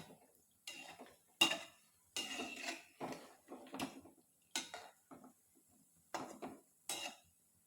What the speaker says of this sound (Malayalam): ഇനി എല്ലാം ചെറുതായിട്ടൊന്ന് ഇളക്കിയിട്ട് കൊടുക്കാം